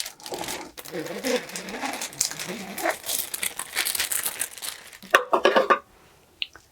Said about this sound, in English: Just want to carefully pull up the foil with the tape